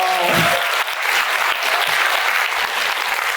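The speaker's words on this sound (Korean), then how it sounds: "박수 한번 주시죠" An audience breaks into loud, sustained applause, dense clapping that carries on steadily without voices.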